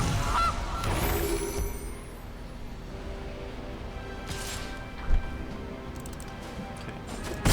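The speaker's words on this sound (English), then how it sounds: "Goose." A goose honk sound effect from the MTG Arena card game plays, with a few nasal honks early on over a busy background of game noise, then quieter ambience and a brief later blip.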